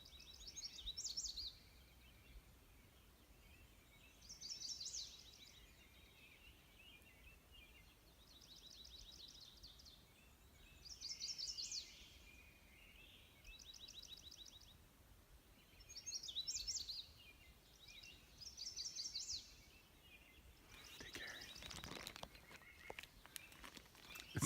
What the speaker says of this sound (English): We'll just listen to birds for a little bit.